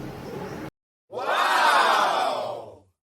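A large crowd at Trimbakeshwar Mahadev temple in the rain lets out a loud, swelling collective shout that rises and fades after a short silence following an earlier stretch of crowd noise.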